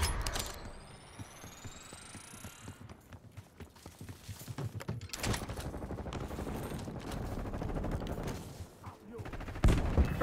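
Gunfire in a Call of Duty match, scattered shots and bursts at moderate distance mixed with mechanical clatter and whooshes, fairly quiet overall.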